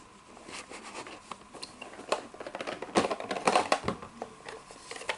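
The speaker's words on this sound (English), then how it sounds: "Let's just put a tape in and see what happens." Tape being loaded into a Sony SL 2300 Betamax VCR with a faulty loading mechanism, heard as close, faint mechanical clicks, clatters and rattles that grow busier toward the end.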